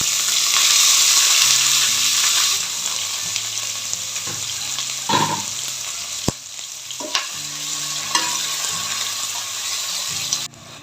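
Whole garam masala and onions fry in ghee with a steady close sizzle, broken by a few clinks and scraping stirs of a utensil against the pan.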